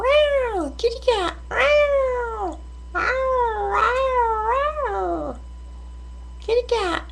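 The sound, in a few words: person imitating a cat meowing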